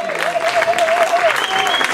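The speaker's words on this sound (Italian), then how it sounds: "Un applauso, coraggio, fatevi sentire." A festival audience in Brivio applauds their president, steady crowd clapping filling the moment, with a tonal voice or whistle line riding above it and no clear talk.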